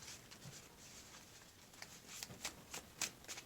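A deck of playing cards is shuffled by hand during a card game, giving soft riffling and flicking bursts that grow sharper toward the end, close and quiet, with no talk.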